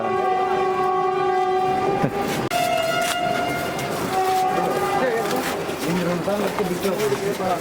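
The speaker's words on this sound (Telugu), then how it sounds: "ఈ ట్రైన్ సౌండ్లకి అలవాటైపోయింది మీకు" A train rumbles past with a long blaring horn, wheels clattering on the rails, while a voice talks over the continuous noise.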